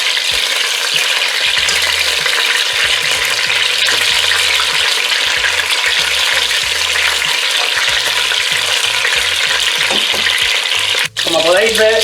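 Chicken pieces sizzle and crackle loudly in a hot pan as they brown, a steady dense frying hiss across the whole stretch with a brief scrape near the end.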